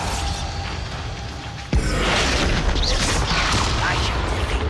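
A sudden loud boom from the Bombarda blasting spell in the video game Hogwarts Legacy bursts in midway and gives way to a sustained rumbling, crackling roar, with a voice speaking around it.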